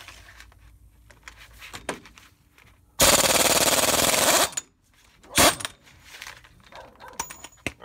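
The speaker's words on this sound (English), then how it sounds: "you're going to take a 36mm socket and use your impact gun" A pneumatic impact gun with a 36mm socket hammers off an axle nut in one loud, sustained rattling burst of about a second and a half, followed by a shorter second burst amid faint clinks of tools and parts during a Dana 30 axle job.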